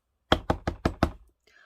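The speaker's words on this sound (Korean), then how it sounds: "똑똑 문을 두드리는 소리가 들렸어요." Five sharp knocks on a door in quick, even succession, close and clear, followed by a brief quiet.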